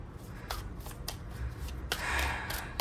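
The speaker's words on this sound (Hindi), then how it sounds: "तो आइए ये वाली कार्ड डेक से निकालते हैं थोड़ा सा।" A deck of tarot cards is shuffled close up in quiet short bursts of riffling and flicking, with a longer fuller shuffle near the end and no talk.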